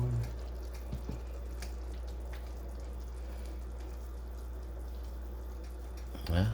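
Water from a tap runs steadily into a pot for a beef stew, a continuous rushing hiss over a low hum, with a brief louder splash at the very end.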